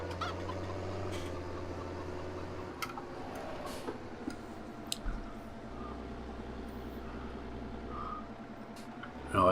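Chickens cluck in a farming video game set on a sheep farm, short scattered clucks and ticks heard close over a low, steady vehicle engine drone.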